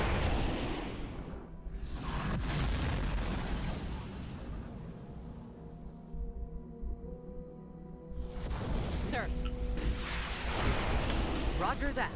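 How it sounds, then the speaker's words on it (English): A plasma launch in the Starship Troopers: Terran Command battle game: booming artillery-like blasts and whooshing bursts rise and fall over several seconds, with game voices talking between the explosions. "Plasma launch."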